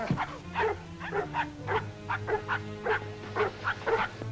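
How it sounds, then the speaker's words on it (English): A hurt, limping dog in a snowy northern wilderness drama gives a run of short, rhythmic whimpering yelps and whines, close and fairly loud, with no talking. "It's not a man. It's a dog. He's hurt. He's limping."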